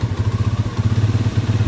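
A Skygo motorcycle engine runs close by after a carburetor cleaning, with a loud, steady low thumping and a rapid, even rhythm.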